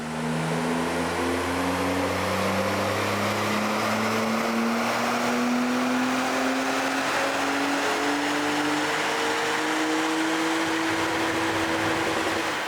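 A supercharged BMW E39 530i Touring engine revs on a dyno, loud and continuous, its whine and exhaust tones sweeping steadily upward in pitch through the pull.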